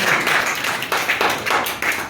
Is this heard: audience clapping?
yes